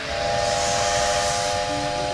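A cartoon steam locomotive lets out a loud, steady whistle of several blended tones over a continuous rushing hiss of steam, close and sustained for about two seconds.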